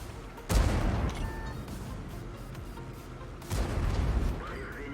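Tank artillery shells fire in a game featuring the French AMX M4 mle. 49 heavy tank, with two heavy booming blasts about three seconds apart over a rumbling battle background.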